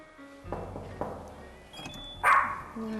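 A dog greets a visiting veterinarian in a home, giving several short barks and yips nearby, with a louder sharp yelp near the end and muffled household thumps between.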